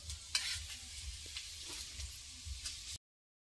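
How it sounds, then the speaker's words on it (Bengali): Beans frying and being stirred in a pan outdoors at a Christmas Day picnic, with a steady close sizzle broken by scraping stirs and a few sharper clinks, and no voices. "বিনস ভাজা করছে।"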